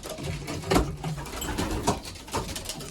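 Racing pigeons coo softly in a loft, low throaty calls repeating at irregular intervals over a close, steady rustle with no voices.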